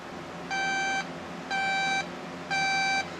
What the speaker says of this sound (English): Now let's go ahead and have a listen to the alarm, shall we?